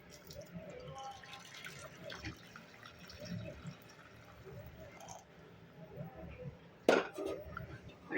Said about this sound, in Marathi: त्यासाठी मी एका नॉनस्टिक पॅनमध्ये अर्धा लिटर दूध घेते आहे.